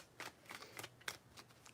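Tarot cards are shuffled by hand in a run of quick, crisp riffling bursts, close and quiet, with short pauses between them.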